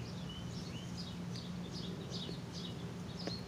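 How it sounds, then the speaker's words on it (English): Faint birds chirp intermittently in the distance over a low steady outdoor hum, with short repeated tweets. "and the birds are really talkative today as well."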